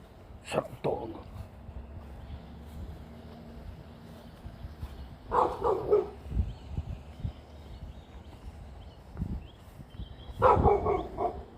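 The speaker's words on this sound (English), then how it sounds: "no big deal, it's a dog." A dog behind a fence barks in three separate bursts spaced several seconds apart, moderately close, over quiet outdoor background noise.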